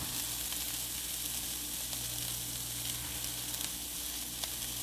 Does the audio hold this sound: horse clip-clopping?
no